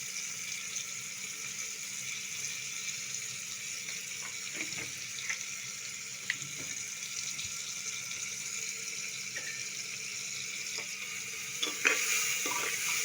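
Onion frying in a pan for homemade soya chaap, a steady low sizzle throughout with occasional light stirring scrapes and small clicks, no voices.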